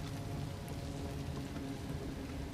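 Steady, dense video game rainfall hissing evenly with a low rumbling undertone, continuous and unbroken, no voices.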